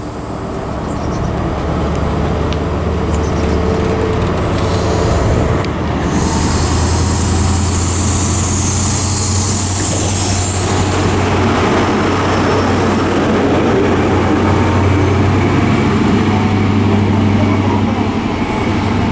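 Passenger train to Penzance from Cardiff Central passing through small Hale Station in Cornwall, a loud sustained rumble of wheels and engine with a bright hiss building midway, close by, with no talk.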